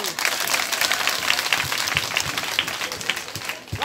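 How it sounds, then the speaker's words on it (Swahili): Applause from a school audience of students in Kigoma, a dense, steady clapping that fills the whole stretch, with some crowd noise mixed in. "Nipigieni makofi jamani."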